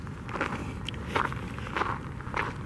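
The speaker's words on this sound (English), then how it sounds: "Just hear the rocks crack." Footsteps crunch on loose rocks along a dirt trail at Kenneth Hahn park, a steady close pace of gritty steps heard alone over faint outdoor background.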